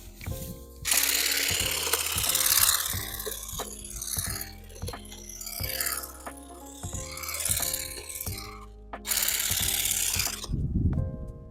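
RZTK CGS 7.2Li Dual Blade cordless grass shears cutting grass, a buzzing, clicking blade mechanism running in bursts with brief pauses, loud and close, no talking.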